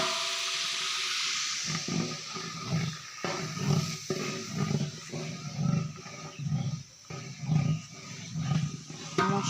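Chicken pieces fry in a big pot of oil for a mahfil biryani, giving a loud, constant sizzling hiss. Rhythmic low thuds and surges, likely from stirring, repeat every second or so, with no clear talk.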